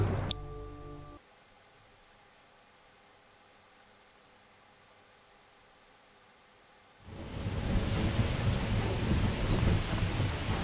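Thunderstorm in the video game Mafia 2: a brief thunder crack opens, followed by a long near-silent lull, and then loud, steady broadband rain roars in for the last few seconds.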